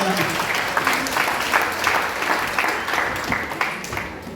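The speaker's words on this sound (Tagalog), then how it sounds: "pumalakpak ng malakas sa ating Panginoon." A church congregation claps loudly and continuously in praise, a thick rolling wash of many hands with scattered louder claps, filling the room.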